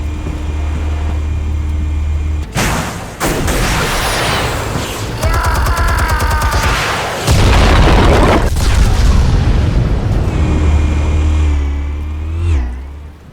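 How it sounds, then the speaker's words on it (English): Explosives go off in the Batman Telltale video game as a string of heavy booms and blasts, mixed with whooshing debris and a roaring engine-like rumble. The sound is loud and dense and ends in a swelling rush. "Explosives armed. Fire when ready."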